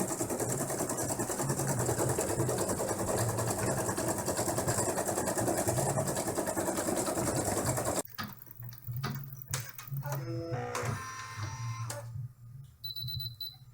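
An embroidery machine stitching around an in-the-hoop dollhouse bag design runs as a loud, steady mechanical whir, then stops partway through, leaving intermittent clicks, beeps and small mechanical sounds.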